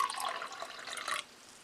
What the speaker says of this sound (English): let's get some tea, pour it in clear glass here